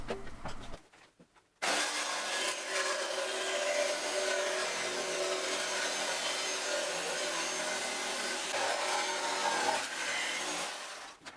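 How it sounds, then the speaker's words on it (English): A saw cuts plywood to size, a loud, continuous rasping whine that runs for about ten seconds after a short pause, close and unbroken. "I'm starting off by cutting my piece of plywood to size."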